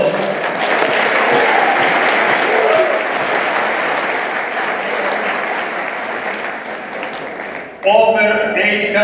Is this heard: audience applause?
yes